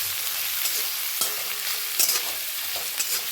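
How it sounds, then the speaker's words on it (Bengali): Chopped carrot fries in hot white oil in a pan, a steady close sizzle with occasional clicks and scrapes from stirring and no voices. "তেল গরম হয়ে গিয়েছে, এর মধ্যে আমি ছেড়ে দিচ্ছি প্রথমে গাজর কুচি।"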